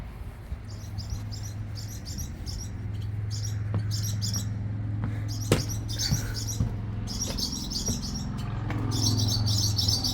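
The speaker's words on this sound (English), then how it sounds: "You can hear birds chirping." Birds chirp and tweet in repeated bursts outdoors at a historic ranch, with a steady low rumble of background noise underneath and a few sharp clicks.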